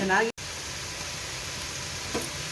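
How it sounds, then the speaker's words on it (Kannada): Ghee heating in a pan for fried rice gives a steady, even sizzle throughout, with a brief dropout near the start and a faint voice-like sound at the very beginning. "ನಾನು 1-4 ಸ್ಪೂನು ತುಪ್ಪ ಹಾಕಿದ್ದೀನಿ. ಈಗ ಇದು ಇದರೊಳಗೆ ಫ್ರೈ ಆಗಲಿ"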